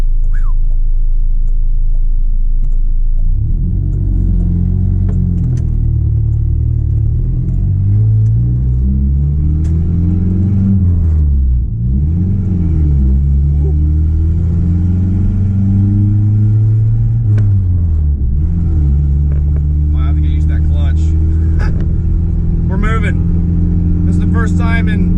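A 25-year-old project shop truck on its first drive in six years, deep loud engine rumble close by that rises and falls as it accelerates through gears, with a voice talking over it near the end.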